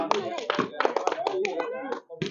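Children clap their hands in quick bursts during a village ball-tossing game, with the claps mixed under their loud, overlapping voices.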